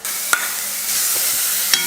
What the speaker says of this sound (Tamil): இப்போ இதே எண்ணெயில் வதக்கிக்கலாம்.